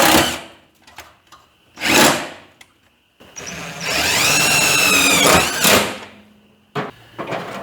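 A power drill bores a hole into the body of a 1940 Chevy coupe, starting with short bursts of the motor, then one sustained whining run whose pitch climbs as the bit cuts, followed by a few final blips.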